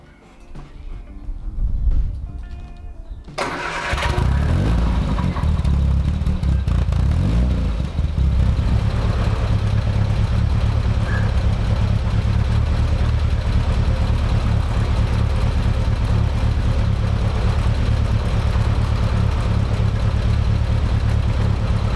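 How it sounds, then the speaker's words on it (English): A Triumph Spitfire's engine fires after a brief quiet lead-in, then settles into a steady, close, continuous idle with a low rumble and faint clatter while it warms up. "start it up, and just let the water circulate its way around the cooling system and let the car just warm itself up"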